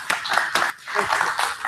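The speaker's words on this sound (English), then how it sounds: "Let's give a round of applause for Rick Lovell" An audience at an FAA safety forum gives a short round of applause for a speaker, a brief patter of claps with a few sharp beats standing out.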